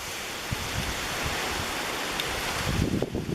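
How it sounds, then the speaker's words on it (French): Steady broadband wind rushes and roars at an airfield, buffeting the microphone with low gusty rumbles that grow stronger toward the end. "Et il y a du vent, hein, ça souffle."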